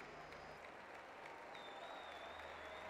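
At a 2012 London Paralympic sitting volleyball match, Great Britain v Brazil, an arena crowd applauds steadily throughout, the sustained clapping continuing at an even level.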